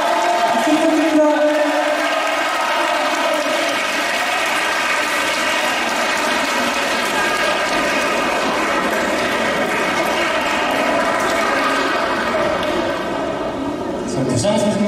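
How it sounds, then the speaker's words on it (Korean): An audience at a school song festival applauds steadily for a teacher coming to the stage, a dense and sustained wash of clapping that only thins out near the end. "박수 부탁드립니다"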